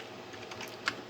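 Someone types on a computer keyboard while writing HTML form code, making soft, quiet keystrokes with one slightly sharper click.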